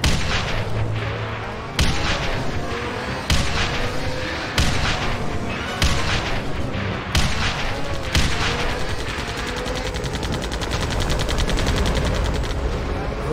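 Rockets firing in the shooter Contract J.A.C.K., several heavy booming launches spaced a second or two apart over a dense bed of continuous gunfire and explosions, loud and near.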